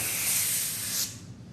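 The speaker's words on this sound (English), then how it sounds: "We're going to release the air." Air rushes out of a pre-inflated balloon being prepared for curly balloons as a steady, close, breathy hiss that cuts off abruptly after about a second, leaving a quiet background.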